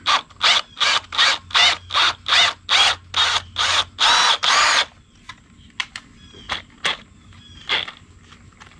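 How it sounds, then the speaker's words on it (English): A power drill whines loudly in about a dozen short bursts while drilling out a bolt on a 1952 Ford 8N tractor, then stops, leaving scattered clicks and light clanks of tools. "to drill this thing out"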